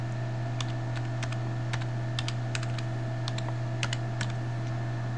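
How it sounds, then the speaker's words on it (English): Computer keyboard keys pressed in irregular bursts of clicks while setting up a Logitech C260 webcam under Linux, close and fairly quiet over a steady electrical hum, with no talking. "And what you'll do is then hit the back key, then you press enter"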